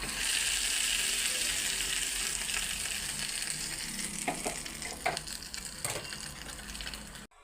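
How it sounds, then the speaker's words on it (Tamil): Mustard seeds and curry leaves sizzle in hot oil for ulundu vada chutney, a dense close crackling fry throughout, with a few stirring scrapes toward the end and no talk. "கடுகு பொரிஞ்சோடனே இந்த கருவேப்பிலையை போட்டுக்குவோம்."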